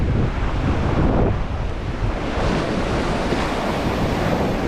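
Ocean surf on a fishing beach washes in as a continuous loud roar of breaking waves, mixed with heavy wind buffeting the microphone.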